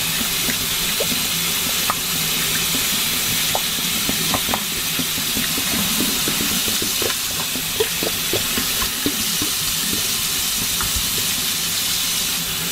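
Hot water pours out of a 2-liter plastic bottle in a steady, continuous hissing rush with faint bubbling clicks, unbroken for over twelve seconds.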